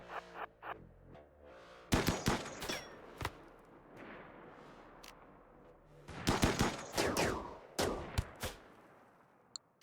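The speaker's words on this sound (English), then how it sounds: "Scary turret still firing on me." Turret gunfire in RimWorld comes as clusters of sharp shots in two main volleys with quieter stretches between, fairly close and crisp, with no voices.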